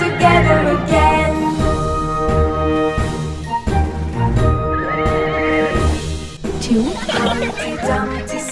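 Horses neighing in a Humpty Dumpty nursery rhyme song: a long whinny runs over steady music, with a hint of hooves clip-clopping.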